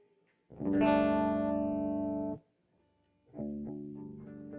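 Two sustained electric guitar notes ring out with heavy effects and reverb at a poetry open mic in Asheville, separated by a brief pause, as if checking tuning.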